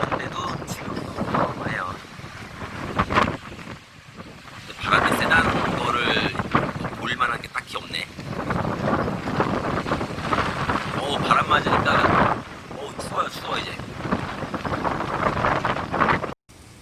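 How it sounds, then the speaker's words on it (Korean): Strong wind buffeting a parked car aboard a ferry crossing from Wando to Jeju, gusting in loud surges with rattling and shaking sounds; a voice speaks intermittently over the roar. "새벽보다는 바람이 좀 줄어 들어"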